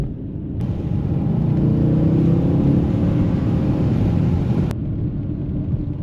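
A Mercedes-AMG car cruises along the road with a loud, steady low engine rumble and road roar from inside the cabin, swelling slightly as it accelerates.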